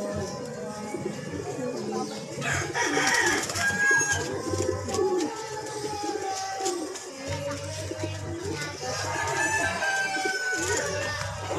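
Racing pigeons arriving at a loft in SJDM, Bulacan, cooing and calling close by while people talk throughout, with a rooster crowing in the background.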